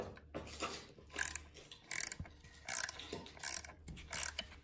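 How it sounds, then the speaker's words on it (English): A ratchet driving bolts that fasten an electric motor to a plywood motor mount plate during a 36V upgrade of a Razor Pocket Mod scooter, giving short bursts of quick clicking with pauses between them, close and fairly quiet. "Now I'm just bolting the motor to the motor plate."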